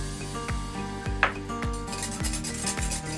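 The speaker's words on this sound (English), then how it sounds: "Whisk it in completely." A whisk beats caster sugar into soft-peaked egf whites in a bowl for a velvet pudding, quick, regular metallic clinks and scrapes against the bowl at a steady rhythm.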